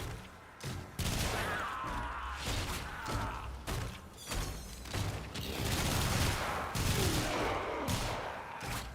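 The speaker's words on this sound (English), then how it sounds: "another missile." Missile fire and explosions in the video game Warframe during a higher-level mission, a dense run of loud booming blasts and thuds with mechanical clatter, almost continuous across the whole stretch.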